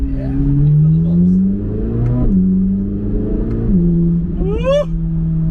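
A Chevrolet Corvette C8 Z06 engine revs to about 3,000 RPM, its loud, close tone rising and falling in several swells and ending in a quick climbing rev, with no talking.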